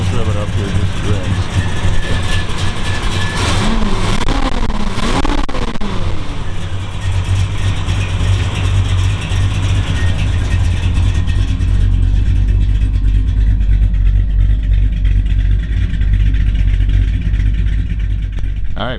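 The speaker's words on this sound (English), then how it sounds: "Let's rev it up here just to rest." Big-block 454 V8 in a 1956 Chevy Bel Air hot rod with Tri-Power carburetion, a loud close rumbling idle that surges in revs early on, then settles to a heavy steady drone, with someone talking over it.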